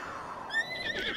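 Epona, a horse in a Zelda video game, gives a short game-audio neigh: a rising, wavering whinny about a second long, fairly faint and heard alone.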